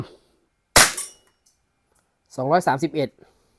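A Double Bell AM.45 Vorpal Bunny toy pistol fires one sharp, loud crack with a short tail, followed after a pause by someone speaking.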